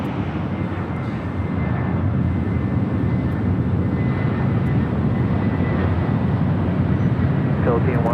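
An airliner takes off at Los Angeles LAX, its engines producing a loud, steady roar that builds slightly and holds throughout, with no talk over it.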